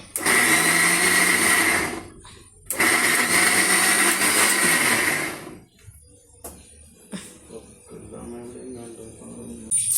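Coconut being crushed in an electric grinder: two long, loud whirring bursts of the motor with a brief stop between, then quieter clattering and handling noises with a voice briefly heard.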